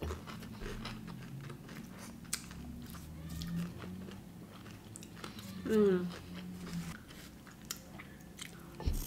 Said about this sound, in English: We ordered delivery and the crunch is still so crunchy.